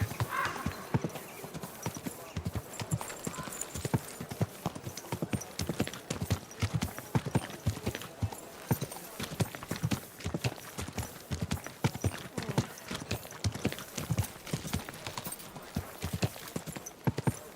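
Horse hooves clip-clopping at a steady walking pace, a continuous run of crisp, close knocks that lasts throughout, fairly quiet, with no clear voices over them.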